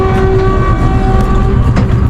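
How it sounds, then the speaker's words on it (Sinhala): A passing train, heard at night on a hill-country track during a mountain camping trip, a loud, close, continuous rumble with a sustained tonal horn or whistle over it and no speech. "ඉතින් ට්‍රේන් එකට බයි කියලා."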